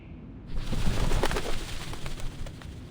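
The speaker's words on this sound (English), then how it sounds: "The doves of the Whitestone House are here." Doves of the Whitestone House coo and flutter in the video game Reverse 1999, a soft continuous mix of murmuring bird calls and wing movement at moderate level, with no talking.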